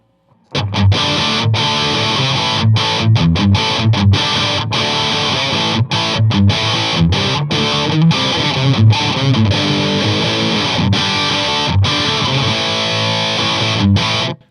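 Electric guitar played through a Boss Metal Zone pedal into a boutique power amp with the distortion turned up, loud and saturated, chugging riffs and choppy chords broken by short rhythmic stops, steady throughout.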